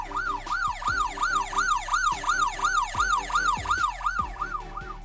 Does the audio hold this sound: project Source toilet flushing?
no